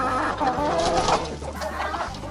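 Cochin chickens cluck steadily in a winter enclosure, close by, with a continuous low background rumble and no clear talk.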